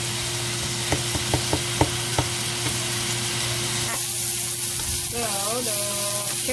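Carrots and peas frying in a pan for fried rice, a steady close sizzle with a few sharp clinks of a utensil early on and a brighter hiss later, with no one talking.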